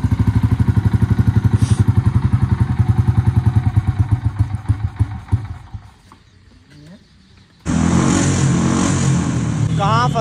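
A Honda Activa scooter that had stood unused for a year sputters and revs with a fast, uneven pulsing engine note, then cuts out, before loud broadband noise with voices takes over.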